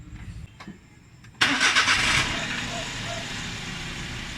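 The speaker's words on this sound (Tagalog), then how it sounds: "Tapos papanda rin natin yung ating makina 10 to 20 minutes." A Suzuki Every Wagon DA64W engine cranks and starts with a sharp burst, then settles into a steady, close idle during a cooling system flush.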